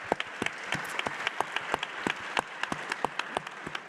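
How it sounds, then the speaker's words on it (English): Audience applause at a DC maternal and infant health summit, honoring the DC Health department: scattered, distinct hand claps in a quick uneven rhythm, fairly faint and distant, with no one speaking. "Let's give them a big round of applause."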